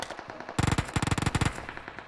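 Rapid bursts of automatic gunfire from a video game, loud and close, in two quick volleys with no talking.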